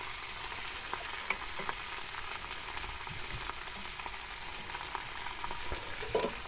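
Butcher-made sausages sizzle and crackle in a hot frying pan, a steady close hiss with small pops and occasional scraping as they are turned, with no voices.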